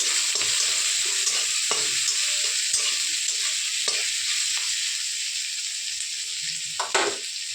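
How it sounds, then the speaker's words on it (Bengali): Onion with grated ginger and chopped garlic frying in a pan hisses in a constant, close sizzle, broken by occasional scraping stirs from a spatula, with no voices. "পেঁয়াজটা একটু লাল লাল ভাজা হয়ে গেছে।"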